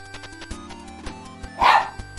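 A single bark from a dog indoors, a short loud burst partway through, set against a quiet room with faint background game sounds and no talking.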